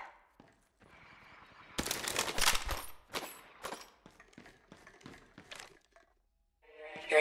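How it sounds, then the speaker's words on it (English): Gunfire bursts in the mobile battle royale game Apex Legends Mobile, loud rapid volleys in clusters with short gaps between them, a final burst at the end. "Getting shot at. Opening fire."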